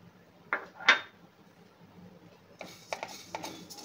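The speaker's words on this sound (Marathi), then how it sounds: "आता आपण जिरे भाजून घेऊया।" Cumin seeds being dry roasted in a pan on low flame, with light metallic clinks and scrapes of a utensil against the pan, then a patter of rattling, close and fairly quiet.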